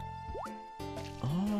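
Crops are watered in Harvest Moon: Island of Happiness. Synthesized plopping drips and short rising chirp tones repeat over a steady game backdrop, quiet and clean.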